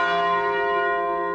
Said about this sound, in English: Churches tolled their bells 29 times, once for each soul on board.